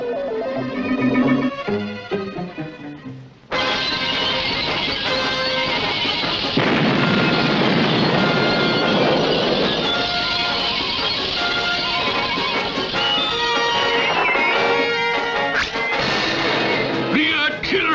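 Booming artillery fire and explosions on a battlefield, a dense, loud, continuous barrage of blasts and crashes that sets in after a short quieter stretch and keeps rumbling on.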